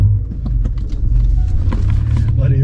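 A manual car pulls away on a downhill slope as the clutch comes up and light throttle is given, a low steady engine rumble close by with faint interior clicks and soft voices inside the cabin.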